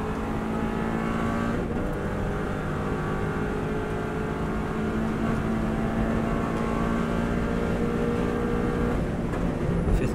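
Inside a Subaru WRX STI on the Isle of Man TT course, the engine roars on continuously under acceleration, its pitch holding and rising slightly amid road and wind noise, loud and unbroken, with nobody talking.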